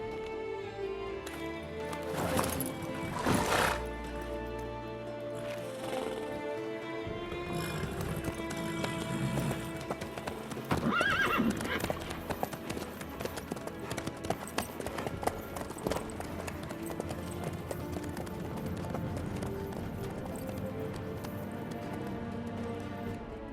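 A horse in the video game The Witcher 3 trots with steady clip-clopping hooves under game music, mostly loud and continuous, with a few heavier bursts of hoofbeats and a possible whinny along the way.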